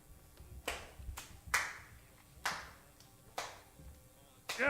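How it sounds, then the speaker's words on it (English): Slow, sarcastic clapping in a radio drama: about eight separate, sharp, close claps in an uneven rhythm, each with a short ringing tail, over a quiet background. "I'd recognize that sarcastic clapping anywhere."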